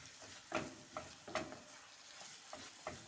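Minced chicken fries with onion in a pan, a faint steady sizzle under a few sharp scraping strokes of a spatula spaced through the mix, with no voices.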